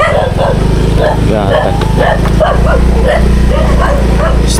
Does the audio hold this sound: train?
no